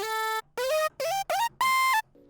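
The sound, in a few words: Serum alter lead synth sound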